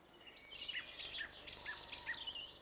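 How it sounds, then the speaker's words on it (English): A tree sparrow in the Sussex Downs gives a faint, distant series of quick high chirps and twittering notes over quiet countryside background. "The shy tree sparrow, distinguished from the house sparrow by its chocolate brown cap and black cheek"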